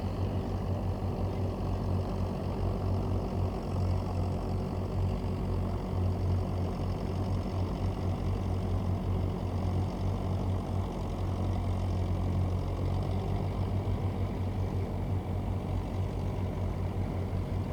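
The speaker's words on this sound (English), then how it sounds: "And another John Deere coming through." An antique John Deere tractor drives past at an outdoor antique gas engine and tractor club plow day, a steady loud low engine drone with a continuous throbbing hum and no talk throughout.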